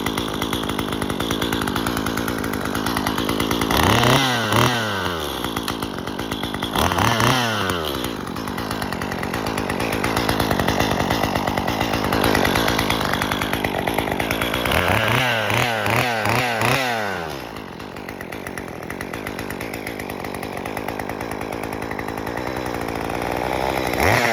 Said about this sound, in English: I used to let my saws warm up for a good like 30 seconds or so.